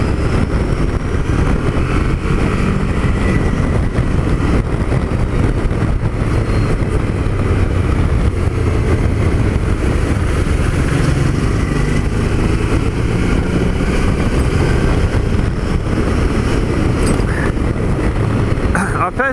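A motorcycle being ridden, its engine drone blended with heavy, constant wind rush, loud and unbroken from start to end.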